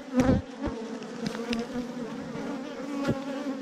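Honey bees buzzing loudly at an open hive during a beekeeping inspection in Texas, a dense, continuous close-up drone with a few sharper buzzing passes and faint clicks.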